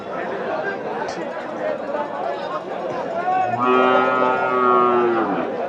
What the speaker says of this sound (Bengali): এখানে বেশ কিছু বড় বড় গরু আছে